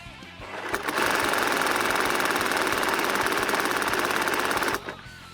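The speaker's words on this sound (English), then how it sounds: "And honestly, even at the slower firing mode, this thing is a little loud." A Nerf MOAB 2.0 motorized blaster fires in its slower mode, a loud, steady mechanical whir with rapid rattling pulses that runs for about four seconds, then stops abruptly. It is close and no one talks over it.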